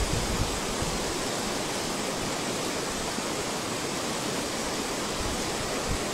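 A river flowing past houses with eroded foundations, heard as a dense, constant rushing roar of water, loud and unbroken for several seconds with no voices.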